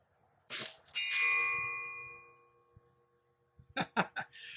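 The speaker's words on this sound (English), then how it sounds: "that thing rings a lot better than any regular steel" Bullet striking an RTI Mora steel target outdoors: a sharp gunshot followed by a bright metallic ping that rings on and fades over a couple of seconds, then a cluster of further shots.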